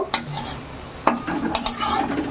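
Lentil fritters made from soaked chana dal sizzle steadily in hot oil, with a few sharp scrapes and taps of a metal spoon against the pan as they are turned and lifted out.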